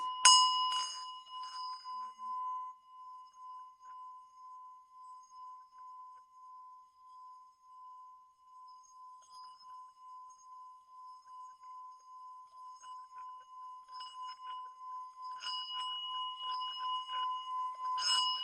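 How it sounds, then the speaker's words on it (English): A single bell is struck and its clear tone sustains in a long, slowly pulsing hum, then swells louder again near the end with faint clinks. "So you ring the bell, right?"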